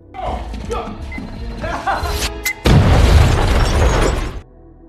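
A sudden loud time bomb explosion with a deep rumbling blast that bursts in and sustains for over a second before cutting off, following busier clattering sounds.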